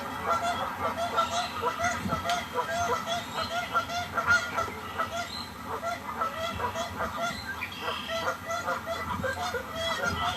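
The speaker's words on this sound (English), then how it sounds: "Here's another example of a real goosey, tubey sounding moan." A real goose gives low, tubey moaning calls and honks in the background, repeated through a busy, cluttered outdoor mix at moderate level.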